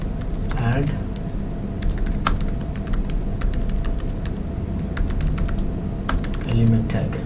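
Custom HTML being typed on a computer keyboard, with steady close clicking keystrokes in quick irregular runs and a voice murmuring faintly at moments.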